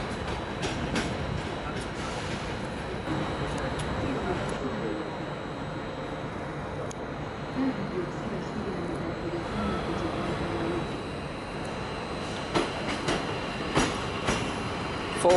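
A MAV train hauling Gysev coaches rolls through Budapest Keleti station with a steady rumble and faint wheel clatter, heard at moderate distance without speech.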